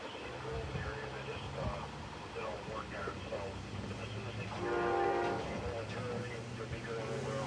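An Amtrak Empire Service passenger train led by a P32 locomotive rumbles through the Bolivar area, with a short, loud blast of its horn rising over the rolling rail noise midway through.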